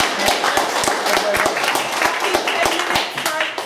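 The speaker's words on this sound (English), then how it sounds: "Let's give you a good round of applause." Audience at a talk applauding, with a dense wash of clapping sustained for several seconds and a few sharper individual claps standing out.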